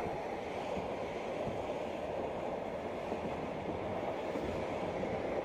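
The Orient Silk Road Express rolls across the Central Asian steppe with a steady, dense rumble and muffled rattle of railcars, heard from inside as a constant even drone with no voices.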